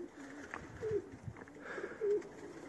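Pigeons in a loft give soft repeated coos, two low rolling calls a second or so apart, faint against a quiet room background.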